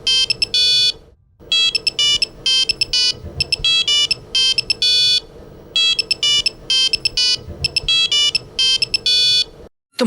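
A telephone rings in a household scene: a loud electronic ringtone repeats in short chirping bursts with steady rhythm, pausing briefly between cycles, over a faint background hum.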